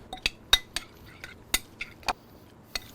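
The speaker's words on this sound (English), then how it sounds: "Max, and now we mix." Crushed garlic and a pinch of salt being mixed in a bowl, a run of sharp clinks and taps of utensil against the bowl at an uneven pace, close and clear in an otherwise quiet kitchen.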